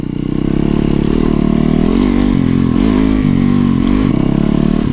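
A dual sport motorcycle ridden hard off-road, its engine loud and close throughout, holding a steady drone that rises and dips as the throttle is worked, with some clatter from the rough ground.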